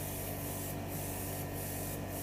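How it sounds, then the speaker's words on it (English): An aerosol can sprays a rose gold coat mixed from gold and pink paint in a steady close hiss, with a few brief louder pulses and no talking. "I'm trying to get the rose gold to spray"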